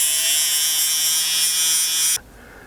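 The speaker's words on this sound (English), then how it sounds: "that is where I'll come in with my disc sander" A small, well-worn disc sander trims a silver ring, giving a steady high-pitched whine that runs loud and continuous for about two seconds before it cuts off sharply, leaving only quiet background.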